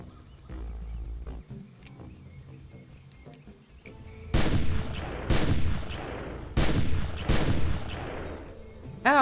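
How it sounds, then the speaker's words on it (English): A shotgun fires repeatedly at a Polacanthus in the hunting game Carnivores, four or five loud, booming blasts in quick succession with roaring animal sounds mixed in, following a quieter stretch of ambient wilderness noise. "the Polacanthus succumbs to the shotgun's might with little resistance"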